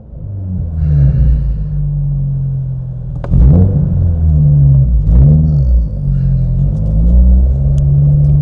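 A Toyota GR86 sports car engine with a newly installed GR intake rumbles loudly at close range, rising and dropping in pitch as it revs and shifts through gears.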